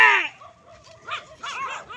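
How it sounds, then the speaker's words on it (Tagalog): Several dogs bark and yip at a person, sharp close barks at the start and again near the end, with a quieter gap and light background noise between them. "your dogs are barking to us"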